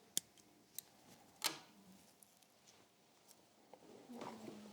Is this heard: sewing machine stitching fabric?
no